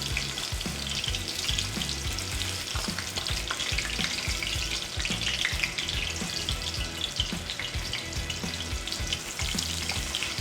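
Martabak telor sizzling and frying steadily in a pan of hot oil, a dense continuous crackle with occasional stirring scrapes, close and loud with no talk.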